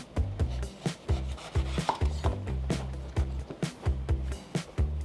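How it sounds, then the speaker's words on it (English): Knife strokes cutting a regular eggplant into thick two-inch slices, about a dozen firm chops landing in an uneven rhythm on a board, close and clear with no talking. "slice your eggplant into 2-inch thick slices like this"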